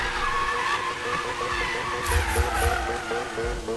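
A car drifts in the video game Need for Speed 2015, its engine droning loudly under a rising tire squeal, with a few thumping bumps midway through the slide.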